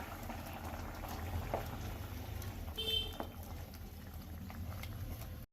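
Potato kurma with masala simmering in a covered pan, a continuous close bubbling boil with soft pops and patter running steadily throughout.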